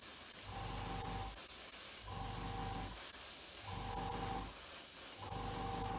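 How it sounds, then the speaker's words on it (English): Continuous Humbrol aerosol spraying onto an Airfix Hawker Hurricane model canopy in several long bursts, a steady close hiss broken by brief pauses, with no talking. "Try and spray this from right above"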